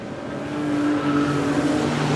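Speedway race cars roar hard as they accelerate down into turn one, a loud, sustained engine snarl that builds and holds steady with a droning pitch, no voices over it.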